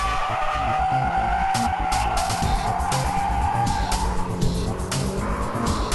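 A car drifts through a corner, its tires skidding and squealing continuously over loud engine roar, close and sustained throughout.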